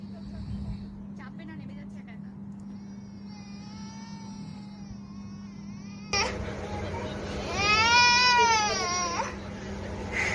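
A baby crying on a train, with several whimpering wails and then a louder, sustained cry near the end, over the steady low rumble of the moving carriage.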